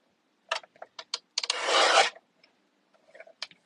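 A paper trimmer slicing through cardstock: one continuous rasping slide of the blade lasting about half a second, surrounded by a few short taps and rubs of handling the paper, close and fairly quiet.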